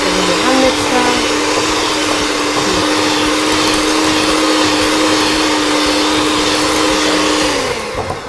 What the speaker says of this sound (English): This is preferable that you do it with a hand mixer so that it's easier.